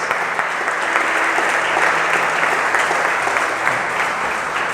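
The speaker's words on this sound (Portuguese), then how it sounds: "Você pode aplaudir o Senhor," A church congregation breaks into sustained applause during a Brazilian evening celebration service, dense steady clapping filling the whole stretch with little variation.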